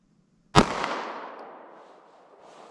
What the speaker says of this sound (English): One more shot here.